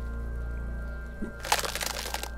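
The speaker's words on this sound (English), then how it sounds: "you hear like the individual chunks hitting the ground." Wet, crunchy spatters of vomit chunks hitting the ground in Disco Elysium, a short cluster of splattering impacts arriving after a quiet stretch with low hum beneath.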